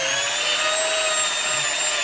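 A small battery-powered drill buffing a Les Paul guitar gives a steady, continuous high whine that holds at even loudness with no breaks for about two seconds, close and alone.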